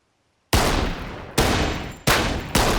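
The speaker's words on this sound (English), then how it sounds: "Okay, you shoot too fast." Gunfire at target practice: four loud, sharp shots with long ringing decay, spaced roughly a second apart and heard close up with no talking.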